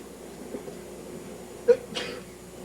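A single short sneeze bursts out against a quiet room hum in a bowling alley, followed by a softer breathy exhale.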